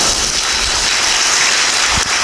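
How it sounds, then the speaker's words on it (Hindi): An audience claps together at a Brahma Kumaris Rajyoga relaxation session, producing a steady, loud, dense wash of applause that holds for about two seconds with no pauses. "ताली बजाइए।"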